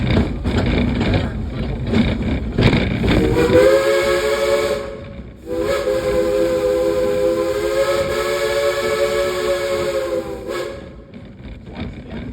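A loud steam train whistle blows in two long sustained blasts with a brief gap, after a hissing rush of steam.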